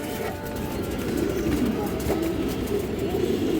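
Pigeons coo steadily at close range, a soft low throaty rolling that continues for the whole stretch under light ambient noise; the birds are a pair of an old-line Bagha breed, a hen and a cock.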